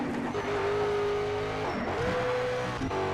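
A race car engine in a video game drones at steady revs, dipping briefly between gear changes, with a synthetic, even tone.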